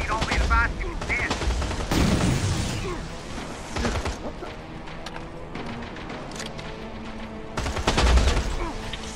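Gunfire in the video game Terminator Resistance: rapid bursts of automatic shots with crackling impacts, loudest at the start and again near the end, with game sounds and some talk in between.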